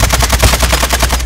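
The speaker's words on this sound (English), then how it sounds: "shots coming from somewhere" Rapid automatic gunfire in Call of Duty: Modern Warfare II's Warzone 2.0, a steady burst of evenly spaced loud shots with no talk over it.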